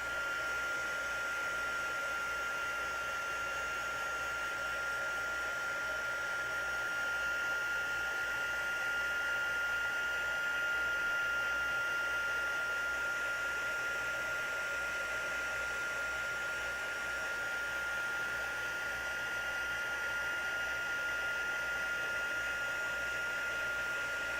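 A heat tool blows hot air to dry, giving a steady, close, unbroken whirring roar with a thin high whine that holds at one level throughout, with no talk.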